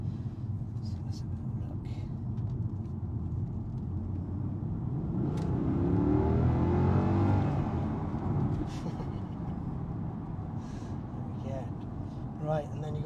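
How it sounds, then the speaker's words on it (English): A Mercedes C63 with a 457 bhp V8 accelerates, the engine's low rumble swelling to a louder roar heard from inside the cabin, then easing back, while people talk over it. "So this is a V8, 457 brake horsepower, Mercedes C63"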